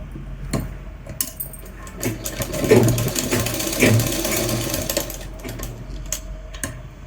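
A sewing machine stitches a churidar seam with a belt, running in short uneven bursts with clicks and handling noises in between, close by and moderately loud.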